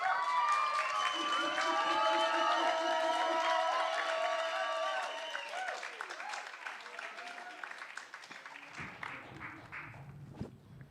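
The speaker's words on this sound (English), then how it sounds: "Can you please give him a round of applause?" An audience at a short film premiere applauds loudly, dense clapping with some cheering that gradually thins and fades toward the end.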